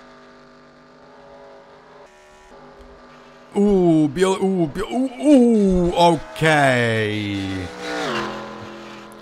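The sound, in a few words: race car engines in a sim racing video game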